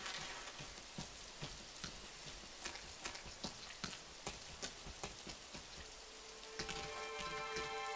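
Steady rain pours in the video game Rain, a dense hiss of drops with sharp spattering ticks throughout. A sustained tonal music note enters near the end.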